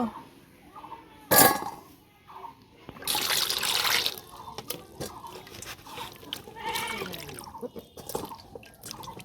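Eggplant is washed with water from a tap, making splashing and dripping bursts, one sharp splash followed by a longer rush of running water, with goats bleating in the background.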